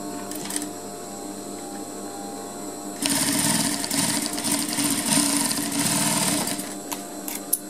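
Sewing machine stitching a zipper fly in a tailoring class: the room is quiet at first, then the machine starts loudly and runs in a fast, steady whirring rattle of stitching up close until near the end.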